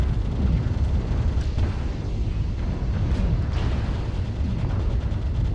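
Mech machine gun fire in MechWarrior Online comes as a dense, continuous rattling roar, loud and steady throughout, with no talk over it.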